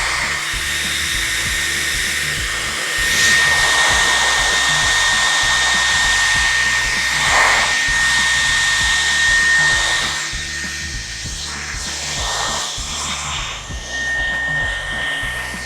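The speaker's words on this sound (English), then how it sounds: "Okay, switching this on." Dyson Airwrap hair styler blowing with a steady high-pitched whine and airy rush, close and continuous, with slight changes in pitch and airflow as it is moved through the hair.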